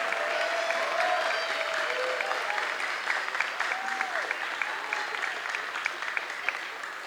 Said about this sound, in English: I think we should give them one more round of applause before they play